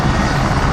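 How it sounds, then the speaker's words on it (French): A B-25 bomber's piston engines give a loud, steady propeller drone in a brief burst at an air meeting, with no voices over it. "Je surveille du coin de l'œil le B-25 qui fait des zigzags là-bas au bout."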